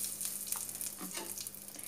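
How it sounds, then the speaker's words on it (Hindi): Asafoetida hits hot oil already crackling with mustard seeds and cumin, giving a soft, continuous sizzle with small pops and crackles scattered through two seconds, fairly quiet and close. "अब ऑयल गरम हो गया, इसमें राई जीरा तड़क गए हैं"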